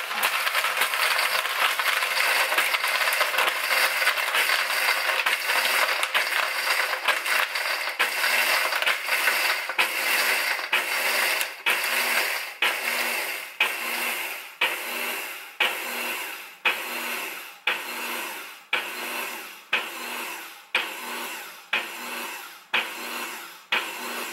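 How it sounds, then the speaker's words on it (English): A KitchenAid 5-speed Diamond blender on its crush-ice setting crushes ice cubes with a loud, continuous grinding rattle that breaks into rhythmic pulsing bursts as it runs. "Turn the blender on and choose crush ice and it will run automatically for 30 seconds."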